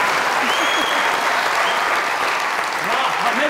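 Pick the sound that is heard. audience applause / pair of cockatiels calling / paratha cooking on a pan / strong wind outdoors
audience applause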